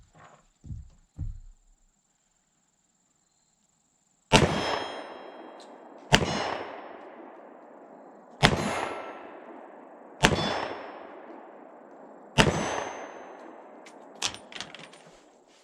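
Six sharp ringing clangs of steel targets struck by a Ruger LCR .357 revolver at 15 to 18 yards, spaced roughly two seconds apart, each with a bright decaying ring; the last two come close together.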